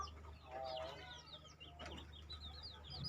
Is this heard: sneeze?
no